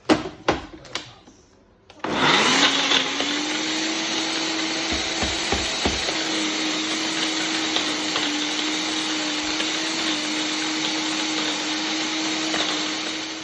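A few knocks as the jar is fitted, then from about two seconds a blender whirs loud and steady, pureeing Thai red curry paste with a continuous motor hum to the end, no talking.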